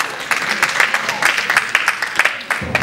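Guests at a marriage blessing ceremony clap for an honored church minister, a brief burst of sharp, fairly close handclaps with uneven rhythm and faint voices mixed in.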